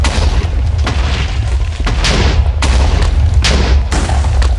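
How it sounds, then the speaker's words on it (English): Repeated booming shots from a grenade launcher in Minecraft, loud, heavy blasts arriving every second or so over a constant rumble, with no talking. "It's like a freaking grenade launcher, dude, with 50 grenades."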